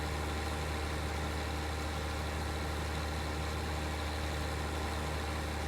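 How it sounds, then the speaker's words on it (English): A tractor engine idles in the Farming Simulator 19 video game, giving a steady, even low drone that runs unchanged from start to end, close and continuous, with no speech. "bring this tractor back to the upper plateau farm, or parking area if you will"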